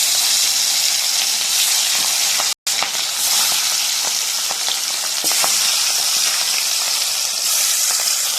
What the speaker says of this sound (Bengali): কড়াইতে আবার তেল দিয়ে দেব মাছ ভাজার জন্য।